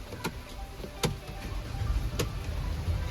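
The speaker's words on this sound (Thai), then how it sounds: "เดี๋ยวผมสตาร์ทรถ" A Mercedes-Benz Vito van's engine cranks and starts nearby, with a few sharp clicks early on, then a steady low rumble that holds for the rest of the moment.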